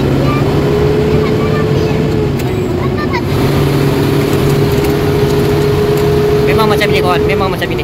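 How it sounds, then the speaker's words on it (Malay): Old lorry engine drones loud and steady through a forceful gear change, a continuous low hum with rising whine, while someone talks over it. "Cara tukar gear ni memang lori lama kan, dia kena ganas sikit."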